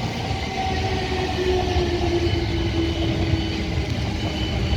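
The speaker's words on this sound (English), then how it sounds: "And we have another train." A train passes through Raynes Park station on the South Western Main Line, making a continuous heavy rumble with a faint sustained squeal. It is steady and fairly near throughout, with no voices.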